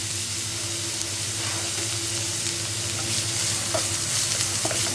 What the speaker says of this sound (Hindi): सबसे पहले मैं इसमें डालूंगी एक कटी हुई प्याज और इसे हम